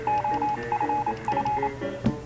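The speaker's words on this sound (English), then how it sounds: "I'm gonna communicate using this Morse code and this newfangled radio" Morse code tones sent over a ham radio on a homestead, a steady run of short and long beeps in a quick rhythm with brief pauses between groups and no talking.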